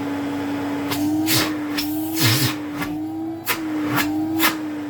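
A restored 1981 Electrolux Z355 cylinder vacuum cleaner motor hums and drones steadily close by throughout, with occasional bumps and clicks as it is moved around.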